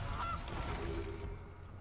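A Goose card hits the battlefield in MTG Arena with a single short goose honk effect, fairly quiet and alone over a soft game backdrop.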